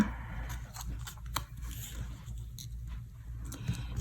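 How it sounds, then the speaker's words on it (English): Adhesive backing peels off a paper card piece during card making. Faint, close, crinkly ripping bursts come in short separate tugs against a quiet background. "I'm just gonna peel this off and stick it to the card front."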